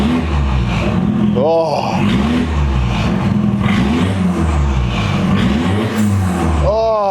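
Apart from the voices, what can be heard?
MK2 Golf GTI 1.8 turbo engine revving without exhaust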